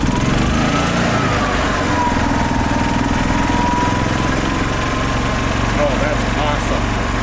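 A gas 2005 Club Car Precedent golf cart engine runs at a steady, close idle with a constant buzzing drone, after sitting unused for five years, while a person speaks briefly over it.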